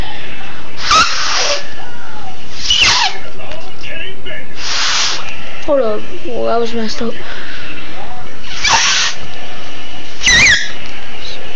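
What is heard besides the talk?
folded paper noise maker being blown through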